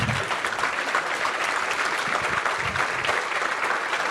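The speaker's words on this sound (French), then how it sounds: "Applaudissez-les." A live conference audience claps as young men are called up on stage, a continuous, fairly loud ripple of applause with no speech over it.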